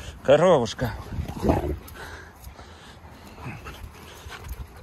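A wolf whimpers in a brief high, wavering whine near the start, followed by softer snuffles and panting under nearby talking.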